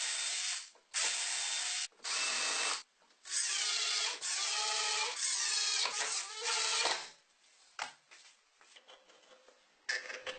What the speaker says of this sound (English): To keep the end caps in place, I just drove in 4 tiny screws.